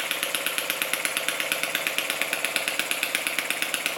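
A Lister D model stationary engine runs smoothly at a steady idle, a fast, even, close-up chuffing beat with a bright metallic rattle that continues unbroken throughout, no voices.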